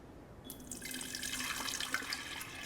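Sweet tea poured into a heat-safe jar, a steady, close liquid stream and splash that builds after a brief quiet start and runs continuously.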